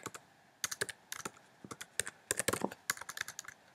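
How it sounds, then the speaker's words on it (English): Quick bursts of clicking keystrokes on a computer keyboard while coding, irregular and clustered, quiet and close with no speech. "I failed typing."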